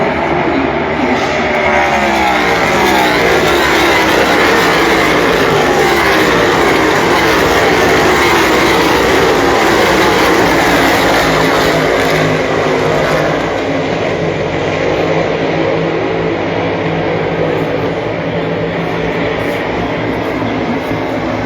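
A continuous, loud roar of NASCAR stock cars racing past at Indianapolis Motor Speedway during the 2024 Brickyard 400, steady engine drone with no talk.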